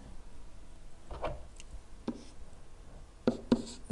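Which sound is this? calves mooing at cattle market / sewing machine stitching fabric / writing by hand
writing by hand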